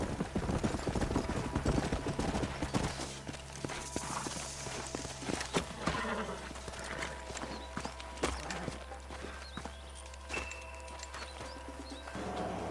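Rhythmic clip-clop of horse hooves in Red Dead Redemption trots steadily, with a low engine-like hum beneath and occasional bird coos in the background.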